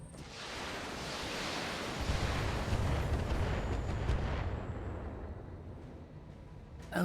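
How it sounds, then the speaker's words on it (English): Mortar fire in the video game Tesseract: a dense, rolling roar of distant explosions swelling into a heavy rumble, then gradually thinning to a quieter wash of noise that ends with a sharp crack. "Oh, those must be mortars."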